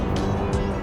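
A 2019 Honda Civic's petrol engine revs hard at the top of its range, a loud, sustained buzzing drone with brief hissy bursts over it.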